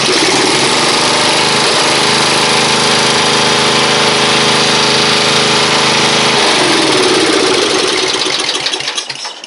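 A Quality Farm & Country 42-inch riding mower engine idles loudly and steadily up close, running with a slightly surging low idle before the sound changes near the end and fades as the engine winds down.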